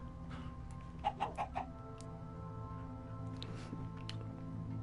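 A Minecraft chicken clucks in a quick series of four short clucks, followed by a few fainter sounds over a steady background hum, with no one talking.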